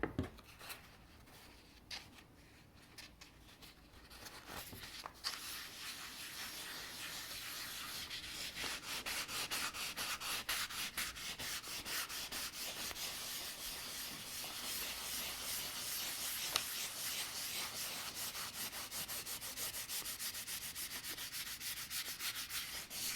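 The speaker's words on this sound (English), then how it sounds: "I'm going to grab some real fine sandpaper like 1000 grit. Let's go over this, wet sand it," Fine 1000-grit sandpaper wet-sanding a laser-printed image transfer on wood, a steady close hissing rub that runs continuously with fast, even strokes and no talk.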